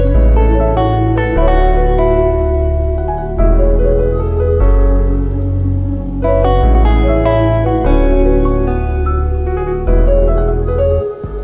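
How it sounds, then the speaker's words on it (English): A Kontakt vocal preset pad named Calming Spirits plays sustained, layered chords that shift every second or so, loud and continuous with no talking over it. "I got this vocal preset pad"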